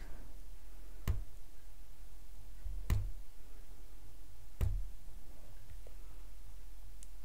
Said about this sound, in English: So basically, the noise I'm going to be doing is tapping